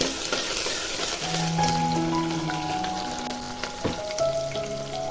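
Chopped onion, curry leaves and green chillies sizzle in a pan with occasional stirring scrapes, a steady close frying hiss with no talking.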